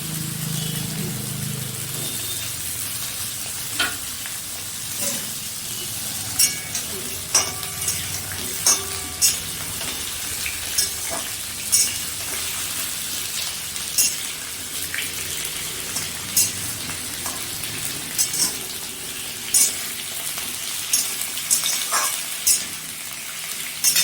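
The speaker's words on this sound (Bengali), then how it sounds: "আলুগুলো আমি একটু ভেজে নেব।" Potatoes fry in a pan for a Bengali luchi and aloo chochhori dish, with a continuous loud sizzle broken by frequent spatter pops and occasional stirring scrapes, close and without talk.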